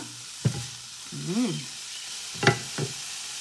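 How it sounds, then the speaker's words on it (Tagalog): Food is stirred in a pan with peppers, a low sizzle broken by a few scraping strokes of a utensil against the pan, close and fairly quiet. "Haluin muna natin siya."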